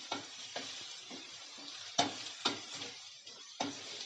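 A Kerala moru curry being stirred in a sizzling pan: rhythmic scraping strokes about every half second over a steady frying hiss, close and moderately quiet, with no voices.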